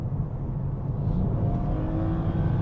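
A BMW E92 Alpina B3 GT3 accelerating hard in sport mode, heard from inside as a steady, deep engine roar with a faint rising whine, continuous and full for under three seconds.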